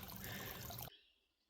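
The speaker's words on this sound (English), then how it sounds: "This is the water source for this camping location." Water trickling steadily at a campsite water source beside an access trail on the Appalachian Trail, a close, bright, continuous flow that cuts off abruptly, leaving faint outdoor ambience.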